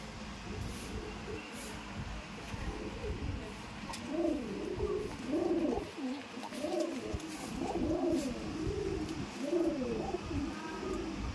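Kaldom breed pigeons coo repeatedly while being caught and handled, their soft rolling calls rising and falling close by over steady background noise.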